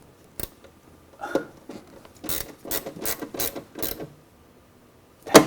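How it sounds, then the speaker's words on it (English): A hand ratchet fitted with a 10mm socket clicks in short bursts in a workshop, with several quick close-up ratcheting passes and a sharp final click. "it does ratchet, so it's pretty handy"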